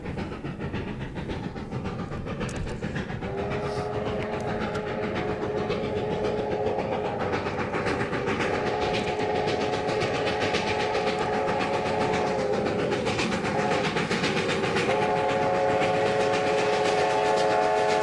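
Steam train on the Heber Valley railroad running in winter near Mount Timpanogos, a steady loud rumble of rolling cars with a long sustained whistle tone holding through most of the run.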